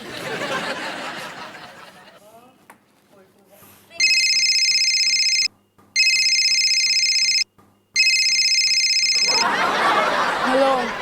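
A phone rings out during an outgoing call, a repeating electronic tone in bursts with short gaps. Voices and light laughter come before and after the ringing.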